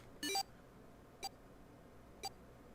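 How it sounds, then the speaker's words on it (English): An electronic bracelet in the video game Nine Hours, Nine Persons, Nine Doors gives a short chirp of rising tones, then two single faint beeps about a second apart over a low background hum. "His bracelet gave a cold electronic beep."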